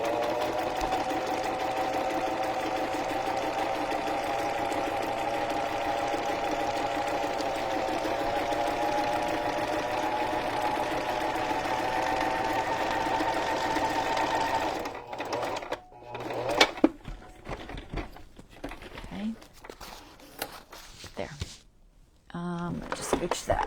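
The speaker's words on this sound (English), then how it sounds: "Now this one, we'll just go ahead and sew just for looks." Sewing machine stitching a junk journal cover, a steady close whirring hum for about fifteen seconds, then stopping, followed by handling clatter and fabric movement.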